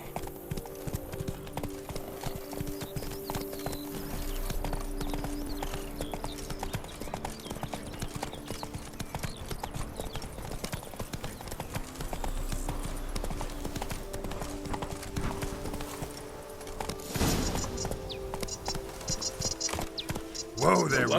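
Roach the horse's hooves clip-clop steadily and rhythmically in The Witcher 3, with one short louder burst near the end and a voice talking over the hoofbeats.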